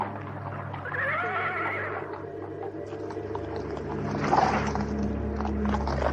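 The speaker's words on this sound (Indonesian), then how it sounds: "si Damai memacu kuda ke sini." Horse neighing loudly and close, a single rising, wavering whinny over a low steady rumble, with faint hoof movement following.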